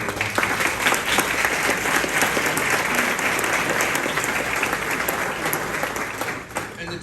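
Luncheon audience applauding young adults in the room: dense, sustained clapping from a large crowd that carries on steadily before tapering off at the end.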